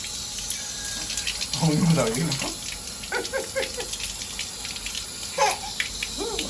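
Tap water runs steadily while a child bathes indoors, a continuous hiss and splash beneath an adult's talking and the child's babbling and laughter.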